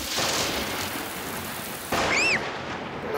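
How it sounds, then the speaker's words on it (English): Cartoon thunderstorm: steady heavy rain pours throughout, then a loud thunder bang bursts in near the end with a bright ringing tone over the downpour, and no one speaks. "the thunderbangs are very loud."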